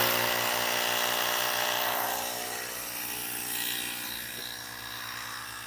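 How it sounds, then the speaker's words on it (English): An air compressor pumping up an electric vehicle tire: a steady, loud mechanical hum with a buzzing rattle and a faint hiss, continuous throughout with no talk. "He's giving me hell about this compressor."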